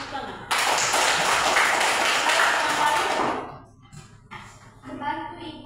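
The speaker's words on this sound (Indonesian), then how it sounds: "Bagus, tepuk tangan." A classroom bursts into loud, dense applause lasting about three seconds, close by, then stops abruptly as a voice begins talking.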